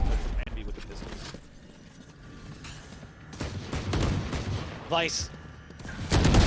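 Pistol fire in a Valorant esports match between Envy and Cloud9 Blue: sharp shots crackle under a commentator's steady talk, with a rising whistling game effect and a louder burst at the end.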